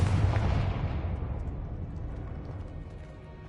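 A Confringo fire spell cast in Hogwarts Legacy lands as a loud, booming burst, then fades into a long rumbling decay.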